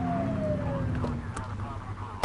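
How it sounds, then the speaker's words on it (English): Police car siren from The Precinct winds down in a falling wail, then a couple of short whoops cut in, loud and close over engine rumble. "Get on their tail and flip the siren."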